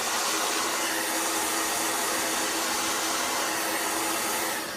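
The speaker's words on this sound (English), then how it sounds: "take the blow dryer" A handheld blow dryer roars in a steady, close, broadband rush of air, aimed at freshly applied mascara, with no other sounds.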